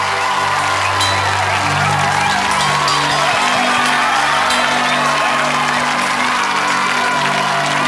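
Dense crowd noise at a stage show as a Voice of India judge and music composer is welcomed, a sustained wash of cheering and clapping with whoops, steady and loud throughout with a low musical drone beneath.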